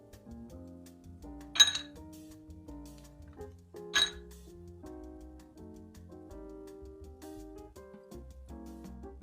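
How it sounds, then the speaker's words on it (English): Ice cubes clinking into a glass while mixing an Old Fashioned cocktail, two bright distinct clinks heard over soft background music. "then we add some ice. Now the book says add plenty of ice."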